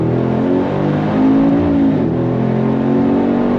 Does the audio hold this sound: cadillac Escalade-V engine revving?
yes